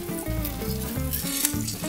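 A thin salmon teriyaki fillet sizzles in a pan just after being turned, a loud continuous frying hiss heard up close for about two seconds, alone with no voices.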